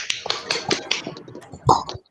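A class does the Indonesian scout clap (tepuk pramuka), a quick patterned series of claps and taps in short bursts, with voices faintly mixed in.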